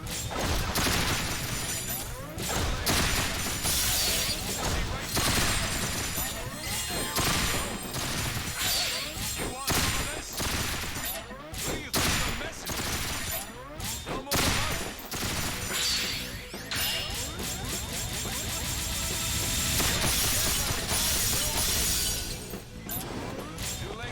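Rapid, dense gunfire and shattering crashes from a shooter video game fill the stretch, loud and nearly continuous with brief dips, as enemies are gunned down.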